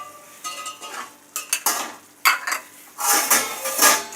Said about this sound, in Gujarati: આપણે બરાબર હલાવી લેશું.